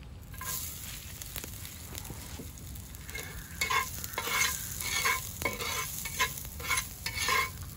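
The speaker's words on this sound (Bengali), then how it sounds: "পেঁয়াজটা একটু নেড়ে চেড়ে নিলাম" Onions fry in oil with cumin and get stirred, a low sizzle under repeated scraping strokes of a spoon against the pan that grow busier toward the end, close up and with no voices.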